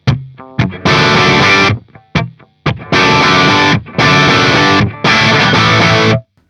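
Distorted electric guitar played through a Fryette Deliverance amp in a general-purpose rock tone, loud chords rung out and choked in short stop-start bursts with brief gaps, no talking.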